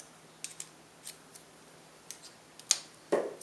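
Scissors cutting through the thin metal of a tuna can, a few sparse sharp snips and clicks spread out, close and quiet, the last ones louder.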